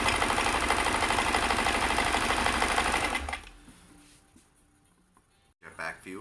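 Vintage Kenmore 158.1040 sewing machine stitching fine straight stitches, a loud, steady mechanical whir for about three seconds before stopping abruptly, followed by quiet handling and a short clunk near the end.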